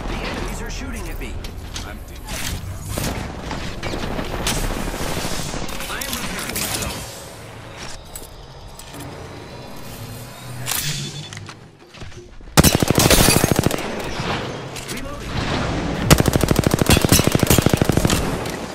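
Enemy gunfire in a team shooter video game, with bursts of automatic fire and shots throughout, growing loud and dense in rapid volleys near the end, mixed with other game effects and people talking over it.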